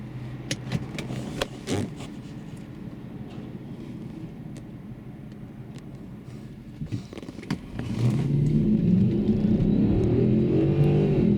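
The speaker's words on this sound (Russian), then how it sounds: "Сейчас автомобиль находится в режиме газа. И мы смотрим его разгон." Volkswagen Touareg V8 4.2 FSI running on LPG, idling with a few clicks and knocks before the engine note swells into a rising, steady acceleration roar near the end, heard from close by.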